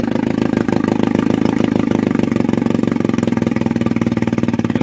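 A small 5 hp Johnson TD20 outboard motor idles with a fast, even putter, steady and close, running alone with no voices.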